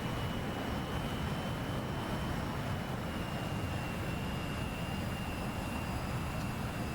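A steady, loud jet engine roar from a J-11 fighter in a video game, unbroken broadband rumble and hiss with a faint high whine running throughout, no talking.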